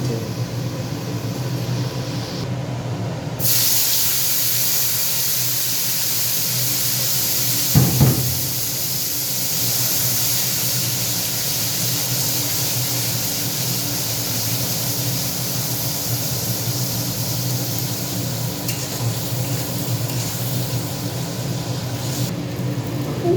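Onions frying in a pan for Bengali kosha mangsho, a steady broadband sizzle running throughout at moderate level, with a brief clatter near the middle and no talking.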